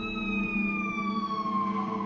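An ambulance siren sounds loud and continuous as it passes, its wailing pitch gliding steadily downward in a Doppler shift over about two seconds.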